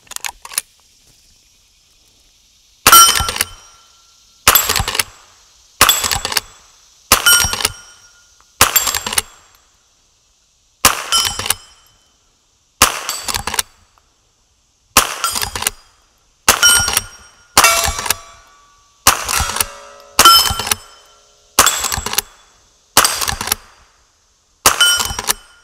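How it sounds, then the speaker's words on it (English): A small game rifle fires about fifteen sharp, loud shots at targets, spaced one to two seconds apart, each crack followed by a short ringing echo, with no talking. "let's put a few rounds on target"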